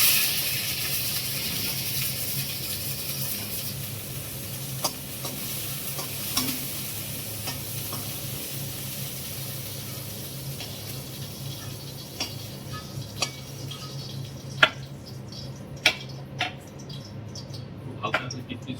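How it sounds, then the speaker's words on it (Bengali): Raisins frying in a pan at moderate volume, a soft continuous sizzle with occasional spoon scrapes and taps, growing sharper toward the end. "প্রথমে কিশমিশ গুলো একটু ভেজে নিই"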